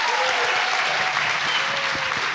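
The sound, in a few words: audience applause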